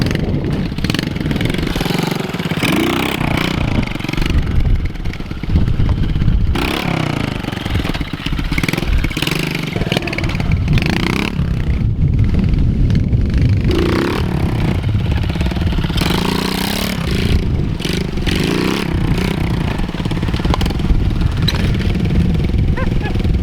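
A small pit bike engine revs and idles loudly up close, rising and falling in uneven bursts with clattering mechanical noise throughout.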